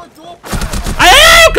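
Gunfire from the tactical shooter Rainbow Six Siege, a loud burst of shots ringing and echoing close by, with excited shouting voices layered over it.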